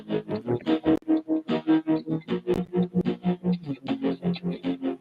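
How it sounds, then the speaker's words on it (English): A tremolo effect running on an Arduino Giga R1 board chops a tonal signal into fast, even pulses of rising and falling volume, repeating about five times a second, close and clear. "which was tremolo on the Arduino Giga R1"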